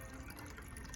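An alcoholic drink poured into a glass outdoors at Big Sur, California, a steady continuous liquid trickle lasting about a second at moderate, close level.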